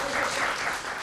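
Scattered audience clapping at a multiple sclerosis presentation for patients, a brief, soft patter of hands from a modest crowd heard at some distance.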